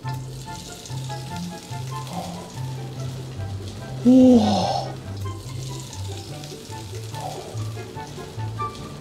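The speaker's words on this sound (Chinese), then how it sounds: "然后我们盖上锅盖让它煎一下吧" Shrimp pan-fry in garlic butter under a lid, giving a steady, moderately loud sizzle throughout, with a brief exclamation from a voice midway.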